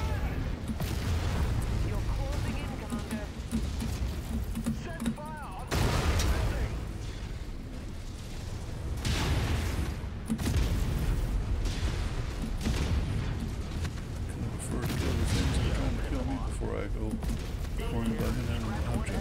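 Mech weapons boom and crackle in MechWarrior 5 amid repeated thudding impacts and mechanical clatter, mostly under radio voice chatter.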